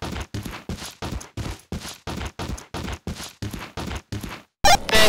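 Gunfire in the Killing Floor video game, a loud, steady string of about a dozen evenly spaced heavy shots, each with a short ringing tail, ending in a louder burst.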